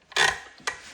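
Two short rasping strokes of a Zwilling santoku knife edge drawn across a 1000 grit whetstone, the first longer and louder, the second brief, close and alone.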